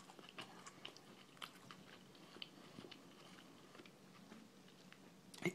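Close-up chewing of a crunchy tuna melt on a bagel, with quiet, irregular crunches and smacks repeating steadily for several seconds, faint and without talking.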